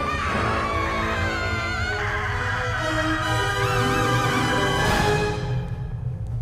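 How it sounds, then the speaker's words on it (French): Screams ring out in a Pixar film scene after a plane explodes: several voices shriek loudly and continuously over a dense rumble and dramatic score, peaking in a sharp burst near the end. "et là on entend ces cris"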